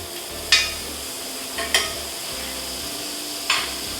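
Small scallops sizzle in butter in a hot pan, a steady frying hiss broken by three sharp utensil scrapes and stirs, close and clear with no talking.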